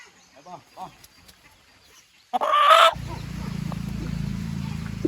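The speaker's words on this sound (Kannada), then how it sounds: "ನನ್ನ ಕೈಲಿ ಇವಾಗ ಎರಡು ಹುಂಜ ಇದೆ" Native country roosters cluck in short bursts at first, then a loud squawk-like flutter breaks out, followed by steady low clucking and rustle close by.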